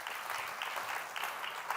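Moderate applause from an audience at a public assembly of young entrepreneurs, an even patter of many hands clapping, fairly soft and steady throughout.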